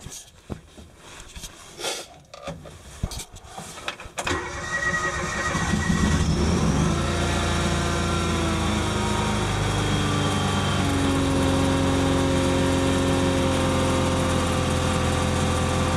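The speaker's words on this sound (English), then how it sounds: "Yeah snowblower back on, for freak's sake" A small snowblower engine starts after some rattling handling noises, then runs steadily and loudly at a constant pitch with a droning hum for the remaining seconds.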